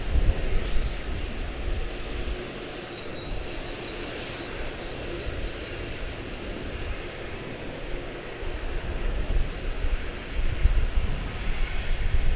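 An American Airlines Airbus A321, a ten-year-old airframe, departs for Cancun from Charlotte-Douglas, its engines a steady broad roar that swells toward the end, heard from a distance with no talk over it.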